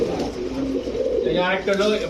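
Soft cooing of large male Pakistani pigeons at a pigeon sale, a low repeated murmuring call close by under ongoing voices and steady background chatter.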